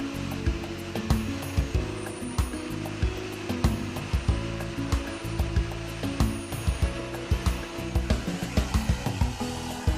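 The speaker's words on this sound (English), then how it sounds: "The impressive 3-motor system provides 3000 watts of powerful suction, 3 times more than some conventional vacuum cleaners." A KV80 industrial single-phase vacuum cleaner with three motors and 3000 watts runs steadily, its close, continuous drone broken by rattling, knocking bursts throughout.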